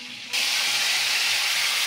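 Guinea fowl browned in a hot pan, deglazed with wine: a sudden loud hiss and sizzle bursts in after a quiet moment and keeps steaming steadily, close and continuous.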